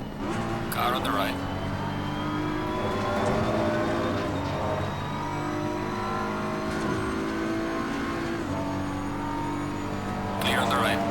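A BMW M4 GT3 race car in Assetto Corsa at Silverstone holds a loud, steady engine note through several upshifts, with other cars' engines close by during a multiplayer race.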